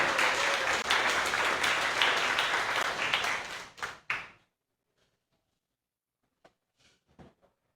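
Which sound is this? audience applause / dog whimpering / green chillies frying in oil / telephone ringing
audience applause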